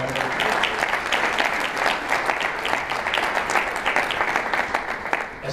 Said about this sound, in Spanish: Vamos a decirle un fuerte aplauso, por favor.